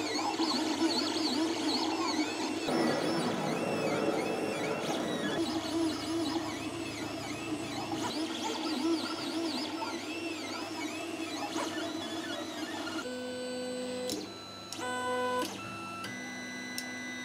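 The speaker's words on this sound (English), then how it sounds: "These make the printhead move to the four different corners." Anet ET4 3D printer moving its printhead during auto bed leveling, whirring stepper motor tones that rise and fall, followed by a series of steady electronic beeping tones, close and without talking.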